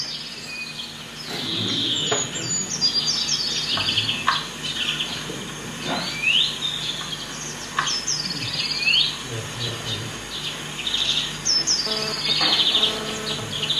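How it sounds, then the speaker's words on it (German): An osprey gives repeated sharp, high whistling calls in bursts over several seconds, fairly clear against a quiet outdoor background with faint insect sounds. "Wer ist sachkundig genug, dass er sich zutraut zu sagen, was das für ein Vogel war? Fischadler."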